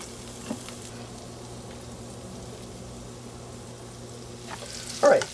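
Lamb kidneys fry in oil in a pan, cooked in batches for browning before going into a stew. A soft, steady sizzle hums under low background noise, with a louder splash and crackle near the end as more go in.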